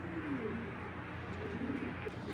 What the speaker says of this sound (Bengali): দর্শক, এই এক জোড়া কবুতর,